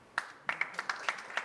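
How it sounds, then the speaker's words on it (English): A small audience at a panel discussion gives scattered handclaps. The individual claps come at a moderate distance, sparse and uneven, over a quiet room. "A big applause."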